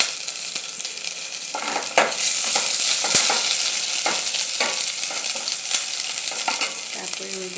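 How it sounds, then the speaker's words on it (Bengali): Dried red chillies and boiled ginger sizzle and fry steadily in a khichuri pan, with occasional stirring scrapes and clinks over the continuous crackle, close and fairly loud. "এবার আমি শুকনো লঙ্কা দিয়ে দিচ্ছি। তারপরে এই যে আদা সেদ্ধ করে রেখেছিলাম সেই আদাটা দিয়ে দিলাম।"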